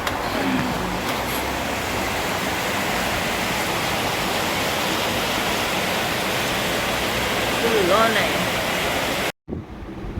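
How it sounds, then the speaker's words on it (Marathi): Heavy monsoon rain pours down steadily as a loud, unbroken hiss that fills the scene, ending abruptly just before the close. "पाऊस बघा किती आमच्या इकडे"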